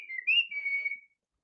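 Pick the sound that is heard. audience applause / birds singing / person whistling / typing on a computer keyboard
person whistling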